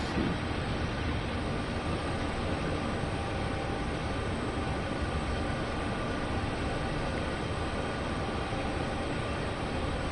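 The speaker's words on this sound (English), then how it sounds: "So now this train will enter Laramie Yard." Freight train of tall boxcars rolling toward Laramie Yard on Sherman Hill in the Train Sim World 2 game, a steady broadband rumble and hiss holding constant and fairly faint throughout, with no voices.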